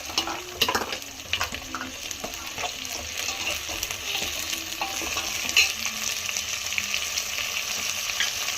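Ground pepper, cumin and tomato stirred into a hot pan for rasam, a steady hissing sizzle with scattered scrapes and clinks of a spoon against metal, close and continuous with no talking.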